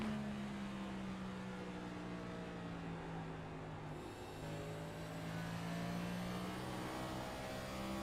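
A race car engine screams at full throttle, a steady high-pitched drone that holds loud and continuous with slight shifts in pitch, no voices.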